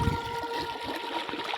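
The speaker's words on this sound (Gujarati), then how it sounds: "જો મિત્રો પાણી આવવા મળ્યું છે" Irrigation water from a motor pump flows out across a sesame field on a farm, a steady close gushing and trickling rush with no voices.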